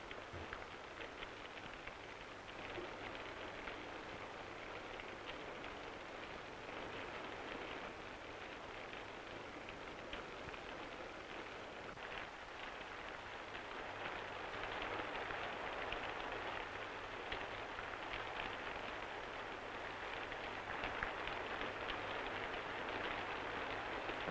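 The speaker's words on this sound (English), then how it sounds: "listen to the rain on the roof" Steady rain patters on a roof, a soft continuous hiss that holds at a low, even level and thickens slightly toward the end.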